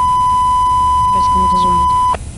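A steady, unbroken electronic beep from the radio in a ZDSimulator train cab, on a ChS7 locomotive hauling an express from Donetsk to Moscow. The tone holds at an even pitch for about two seconds, with a faint voice briefly underneath, then cuts off.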